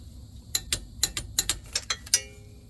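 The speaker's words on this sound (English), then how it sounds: "we're going to torque the pinch bolt to 40 foot-pounds." A ratcheting wrench clicks in a quick, uneven series of about nine sharp, close ratchet strokes while tightening a pinch bolt to 40 foot-pounds on a 2014-2017 Mazda 6 with the 2.5L engine, with no talk.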